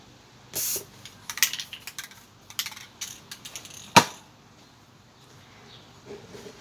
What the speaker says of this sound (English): Now that can's spraying.